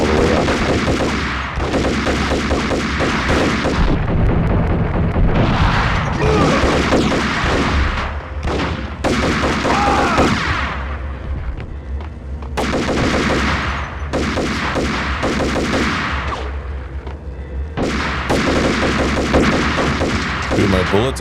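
Dense, sustained gunfire from the 2001 PS2 video game Max Payne, with rapid bursts and repeated shots forming near-continuous loud firing over a game soundtrack, with brief lulls between volleys.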